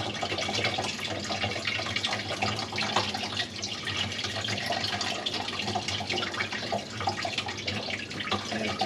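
Running water pours steadily into a drain trap under an apartment sink, a close, continuous rushing and splashing stream with no pauses.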